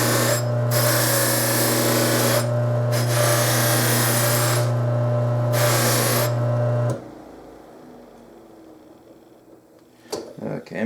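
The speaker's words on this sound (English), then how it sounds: "I'm just going to finish buffing up the areas that I can get with this wheel" A buffing wheel polishes a brass herald trumpet, a loud steady motor whine with the pitch of the wheel rising and dipping as the metal is pressed on and lifted off, then spinning down into quiet with faint handling noises.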